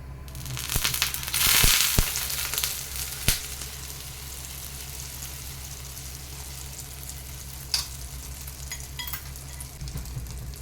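A chicken cheese omelette sizzles and crackles in hot oil in a pan, a steady close frying hiss with a louder burst of spattering early on and scattered sharp pops and clicks throughout.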